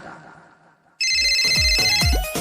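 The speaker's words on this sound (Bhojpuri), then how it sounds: "रुको रुको फोन ला घंटी जाता" A loud phone ringtone bursts in after a second of quiet, playing a repeating electronic melody with steady rhythmic pulses.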